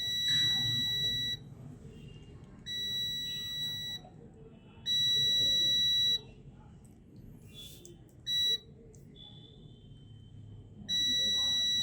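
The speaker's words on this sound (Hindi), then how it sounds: "चारों में बराबर हमें बीप मिल रही है" A multimeter sounds its continuity beep while fuse resistors on an eRickshaw controller board are tested, giving five steady high-pitched tones of about a second each, including one short one, separated by pauses, with someone talking quietly underneath.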